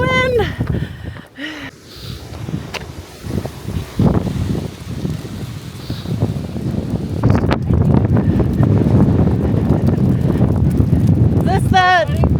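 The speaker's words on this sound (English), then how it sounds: "Ooh, there's the wind." Strong wind gusts roar across an outdoor event site during a windy day after wildfires, a steady broadband rush that swells louder toward the end, with people talking over it.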